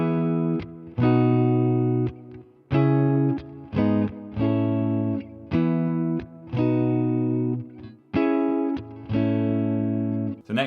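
Guitar strumming the basic chord progression of a song, with sustained full chords changing every second or so in a steady rhythm, clear and close with no voices.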